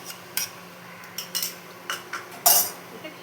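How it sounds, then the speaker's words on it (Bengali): A spoon scrapes and clinks against a pot while fried dry fruits are stirred into potato kheer, with several sharp irregular knocks against the metal. "আর এই যে ভেজে রেখেছিলাম ড্রাই ফ্রুটটা, এটাও মিলিয়ে দেবো।"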